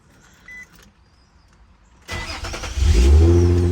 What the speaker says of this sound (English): First startup, new starter.